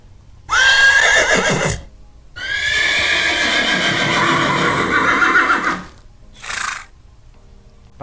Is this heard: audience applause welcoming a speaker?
no